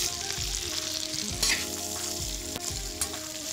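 Onion fries in a pan of oil and melted butter cubes, a steady close sizzle with a few clinks and scrapes of stirring on top, and nobody speaks.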